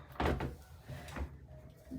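Mirror fitted with small telescoping metal hooks being hung over a door, giving a couple of low knocks and a door-like thud with faint rustling between them, close by.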